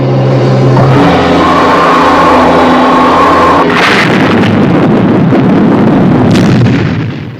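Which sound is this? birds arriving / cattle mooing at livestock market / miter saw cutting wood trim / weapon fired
weapon fired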